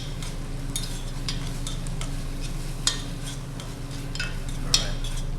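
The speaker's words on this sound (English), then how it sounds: "we're just going to take this spinach and continue sauteing it until most of the moisture that's in that frozen spinach evaporates" Frozen spinach sautés in a pan with a constant, dense sizzle and hiss, while scattered scrapes and light clicks from a stirring utensil come through close up, no voices.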